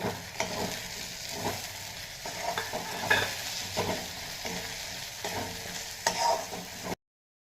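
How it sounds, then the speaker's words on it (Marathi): Dried fish (vakti) dropped into hot oil for a Marathi curry, crackling and sizzling steadily with repeated sharp bursts as it is stirred, close and without talk. "आता वाकट्या टाकून देऊ आपण"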